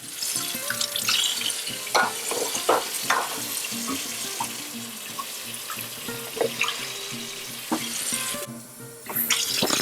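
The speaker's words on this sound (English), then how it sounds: "I have to rinse off my tools after they've been sanitized" Sanitized brewing tools for making mead being rinsed under running water, a continuous splashing flow with irregular clanks and knocks as the tools are handled, close and steady, easing off briefly near the end before surging again.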